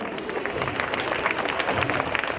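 Audience applause at a Women's Day school programme, greeting an English play: steady, dense clapping from a crowd, fairly loud and even throughout, with a faint murmur of voices underneath.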